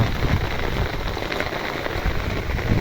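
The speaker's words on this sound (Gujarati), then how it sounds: "એવો વરસાદ ભૂકા કાઢે છે" A heavy downpour roars steadily and close by, a thick unbroken wash of falling water with no talking.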